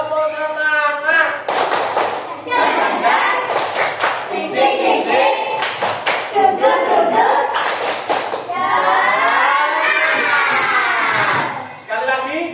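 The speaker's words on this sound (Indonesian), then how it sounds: "Tepuk semangat." A class of children clapping in a rhythmic spirit chant, bursts of sharp group claps alternating with the children's chanted voices, loud and close in a classroom.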